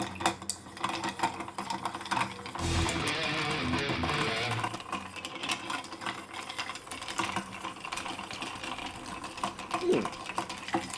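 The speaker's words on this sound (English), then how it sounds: "And let's give this Manhattan a good stir" Ice clinks and rattles steadily as a bourbon Manhattan cocktail is stirred, a rapid rhythmic tinkling under some speech.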